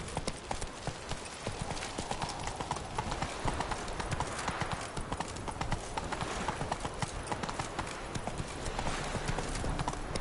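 Roach, the horse in The Witcher 3, gallops in a dense, continuous clip-clop of hooves that stays close and steady throughout, with faint game ambience beneath.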